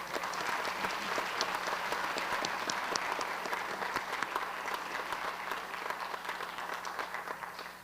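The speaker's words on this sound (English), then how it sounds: "Let's give another round of applause for Dr. Hart" Sustained applause from an audience at a school district awards ceremony for an education honoree, dense steady clapping close and loud throughout, tapering slightly toward the end.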